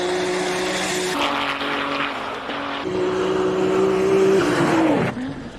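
A Formula 1 car at the Simola hillclimb, a loud high-pitched engine whine rising through the gears, then dropping away, no talk.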